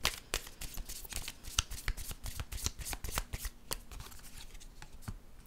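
Tarot cards being shuffled by hand, a quiet, continuous stream of crisp riffling flicks and snaps with an irregular rhythm, close and alone without talk.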